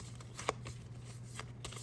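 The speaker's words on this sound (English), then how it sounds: "There's only a few cards, so I'm just going to shuffle it like this." A small deck of oracle cards is shuffled by hand, giving soft, faint riffling and flicking sounds over a low steady hum.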